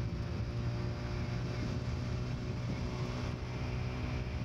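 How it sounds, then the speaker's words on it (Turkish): A TVS Raider 125 motorcycle engine accelerates steadily as the throttle is eased open on a road in traffic, a continuous loud droning roar with wind rush and no speech. "Gazı soft açıyorum, gidikçe açıyorum"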